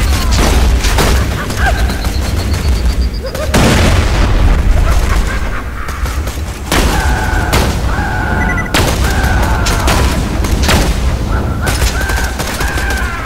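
Explosions and gunfire in the video game Borderlands 2, with dense, loud bursts of shots and booms running almost continuously, broken by brief gaps and layered with higher electronic game tones.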